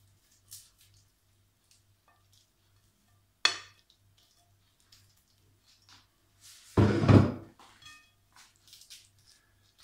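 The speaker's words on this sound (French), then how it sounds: "j'ai préchauffé mon four à 200 degrés et je vais enfourner" An oven door swings open and a vegan carrot cake batter goes into an oven preheated to 200 degrees: a sharp clack, then a louder scraping, clattering handling a few seconds later, in a quiet kitchen.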